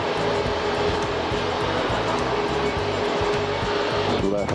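Concorde engines in a flight simulator hold a loud, steady roar at full takeoff throttle, with a rhythmic pulsing beneath and a voice speaking over it.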